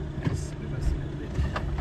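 An off-road vehicle reverses slowly over soft ground at a backcountry Crown land campsite in the Algonquin Highlands, with a low, steady engine rumble, a few soft thumps and faint voices in the background.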